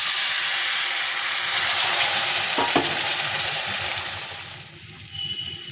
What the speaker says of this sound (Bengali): এবার এটা জল দিয়ে একটু কষবো